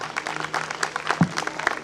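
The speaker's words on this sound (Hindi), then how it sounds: "एक बार फिर से इनके लिए जोर ताली को बजाएंगे।" Audience applause at a Christmas carol event, a steady patter of many hands clapping that fills the whole moment, with a brief voice surfacing near the end.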